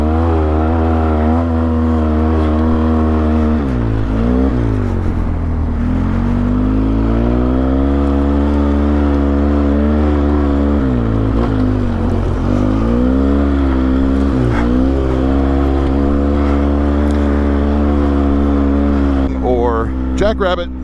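A Polaris Sportsman 700 ATV drives off-road with a steady, loud engine drone whose pitch rises and falls as it speeds up and slows, with a voice talking over it throughout.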